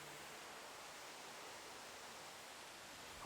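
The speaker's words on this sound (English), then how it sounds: "the rumbling sound of water becomes clearer" A steady, broad rushing roar of a waterfall, constant and unbroken, heard from some distance on a trail in Shenkeng, New Taipei City.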